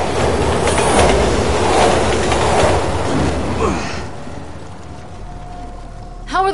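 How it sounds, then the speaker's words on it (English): A train rolls past loud and close, with a dense rumble and clickety-clack of wheels, fading slightly before a squeal of wheels at the end. "Train's coming!"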